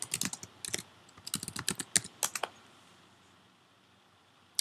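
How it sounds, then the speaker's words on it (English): Fast bursts of typing on a computer keyboard as a song title is entered, crisp close clicks in quick clusters for about two seconds, then quiet apart from one final click. "You type the title."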